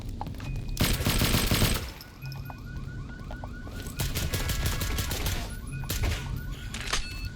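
Gunfire in the Roblox shooter game Project Apex: a few loud bursts of automatic fire among ringing, alarm-like tones and scattered game effects, at moderate volume with no talking.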